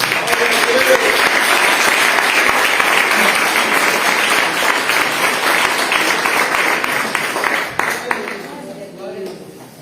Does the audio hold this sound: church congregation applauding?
yes